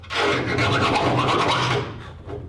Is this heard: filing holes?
yes